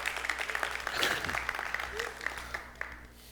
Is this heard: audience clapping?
yes